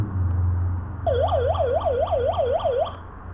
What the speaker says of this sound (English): a siren beacon should you need it